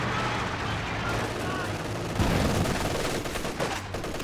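Machine gun fire in the Company of Heroes 2 wartime strategy game rattles in rapid, sustained bursts, loud and close, with heavier impacts and explosions mixed in.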